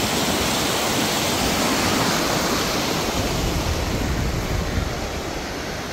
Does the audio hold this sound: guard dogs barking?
no